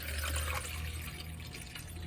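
Water running steadily into a container being filled about two-thirds full, a continuous close splashing, gurgling stream with no talking.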